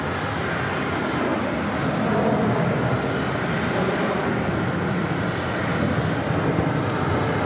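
A Caribbean Airlines aircraft passes at JFK, a loud continuous jet roar that stays dense and even throughout, without talk.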